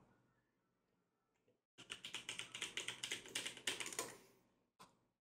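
Rapid typing on a computer keyboard, a dense burst of quick clicking keystrokes for a couple of seconds after near silence, ending with a single stray tap.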